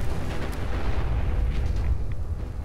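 An explosion in Fallout 4 during the Far Harbor add-on, a deep rumbling blast that roars continuously for a few seconds at moderate loudness, with no talk over it.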